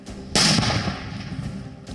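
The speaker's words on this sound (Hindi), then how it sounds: "कहीं धमाके हो रहे थे" A sudden loud blast bursts out, followed by crackling rumble and another fainter bang near the end.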